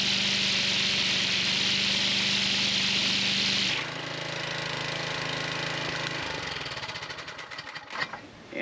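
The electric-start engine of a homemade pond bank mower tractor attachment runs close by with a loud, steady mechanical drone and high whine, then settles into a lower, rougher idle that stutters and knocks toward the end.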